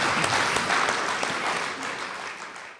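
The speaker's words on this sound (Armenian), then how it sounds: "եկեք ծափարենք" Dense, continuous audience applause fills a birthday tribute gathering, a steady wash of many hands clapping close by from start to finish with no talk over it.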